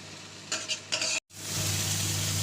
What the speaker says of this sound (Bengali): এর মধ্যে দিয়ে দেবো কাঁচা পাকা লঙ্কা, আর দিয়ে দেবো ধনেপাতা কুচি আর পেঁয়াজ কুচি, সবটা। সবকটা একসঙ্গে মিশিয়ে নেব।